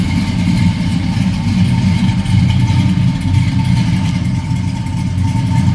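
A 1972 Oldsmobile Cutlass S with a swapped engine settling from high idle to a steady, loud, rumbling idle, close up and with no talk over it.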